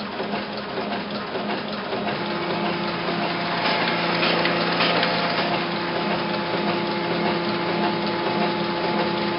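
A Heidelberg QM46 two-colour offset printing press running, a continuous whirring, rushing mechanical noise with a steady hum, growing slightly louder partway through and holding at an even level.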